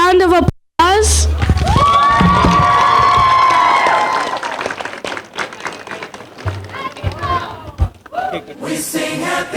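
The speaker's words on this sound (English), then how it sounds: "Let's give her a round of applause." Party guests at a sweet sixteen birthday celebration clap and cheer loudly in a sustained burst, with shouts and voices layered over the noise before it tapers off into scattered chatter.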